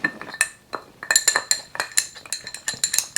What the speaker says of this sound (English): let's stir it up together